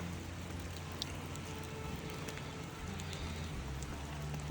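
Heavy rain falls in a Hyrcanian forest, a dense steady hiss of drops drumming on a tent and surrounding surfaces, with a low continuous rumble underneath and no voices.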